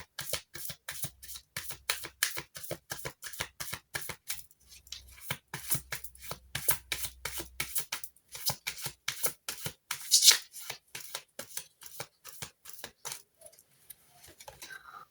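Tarot cards are shuffled by hand, a long run of quick, crisp riffling flicks in rapid rhythmic bursts with short pauses, close and clear with no voices.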